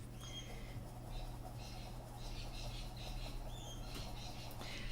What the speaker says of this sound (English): Can you hear my birds in the background?